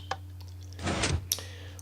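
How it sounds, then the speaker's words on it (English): Automatic doors open in Minecraft with a brief mechanical whoosh and clunk, preceded and followed by small clicks over a steady low hum. "Automatic doors."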